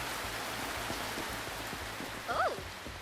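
Steady rain falls in the video game Retro Rewind, a constant hiss of rainfall under a faint rhythmic low thumping, with a brief chirp-like sound rising near the end.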